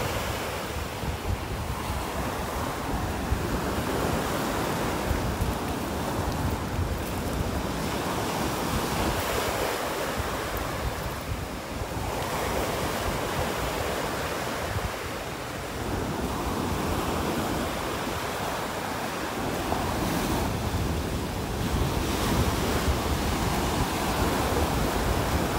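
Ocean surf breaking on a North Naples beach in Florida during a red tide, a continuous loud wash of waves with wind noise on the microphone, rising and falling in slow surges with no voices.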